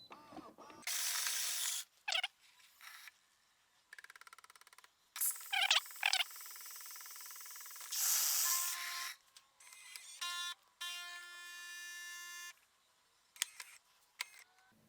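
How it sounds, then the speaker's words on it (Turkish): A Philips 5400 LatteGo coffee machine brews a latte at its default settings, with bursts of grinding, whirring pump and frothing noise separated by pauses and ending in a steady mechanical hum. "Şimdi latte yapalım. Hiçbir ayarla oynamıyorum. Direkt başlatıyorum."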